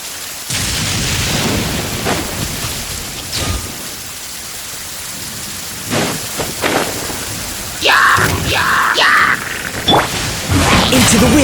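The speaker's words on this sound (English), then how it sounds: "This heavy rain must be quite an inconvenience for you." Heavy rain in the video game Genshin Impact, a steady broadband downpour hissing throughout with swells and whooshing gusts, growing louder toward the end, with no talk.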